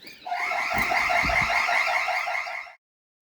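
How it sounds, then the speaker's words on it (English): A loud electronic alarm sounds continuously in a warbling, pulsing tone for nearly three seconds, then cuts off abruptly into silence. "It's always good to undo the alarm."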